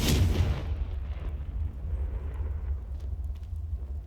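A Confringo fire spell blast in the game Hogwarts Legacy: a loud, deep booming burst at the start that rolls off into a low rumbling tail lasting several seconds.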